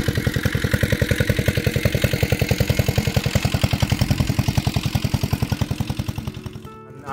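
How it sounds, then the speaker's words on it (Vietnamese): Engine-driven water pump running beside a lotus field, a loud, close, steady chugging beat of rapid regular pulses that slows and fades near the end. "Máy nổ thì nó đang quay đây nè. Người ta bơm nước lên trên ruộng sen nha."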